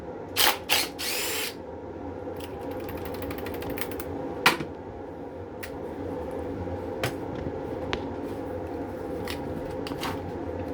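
A tool working a bolt loose on a pump motor, opening with a few loud clanks, then a steady mechanical drone broken by sharp ticks and clicks, close by with no talking.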